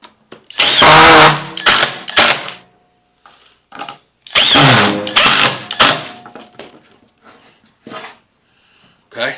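A power drill drives screws into pine wood in two loud, close bursts of whirring, each about a second or two long, followed by scattered clicks and handling taps with no talking.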